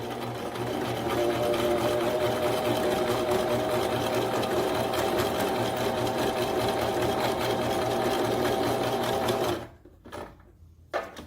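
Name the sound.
sewing machine stitching fabric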